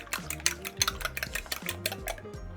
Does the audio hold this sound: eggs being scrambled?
yes